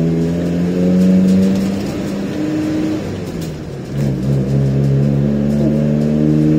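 An Iveco Daily 35-8 van engine with a deep, throaty custom exhaust drones loudly, pitch climbing as it accelerates, dipping briefly, then pulling hard again.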